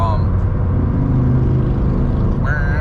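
A motorcycle passes along a road, its engine a loud close rumble rising and then easing off, while someone talks over it.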